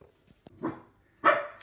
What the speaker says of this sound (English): the dog's joining in